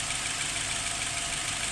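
Nissan X-Trail with low engine power and a faulty air intake hose, idling with strong vibration; a brief, steady, close engine drone with a low rumble and no talk.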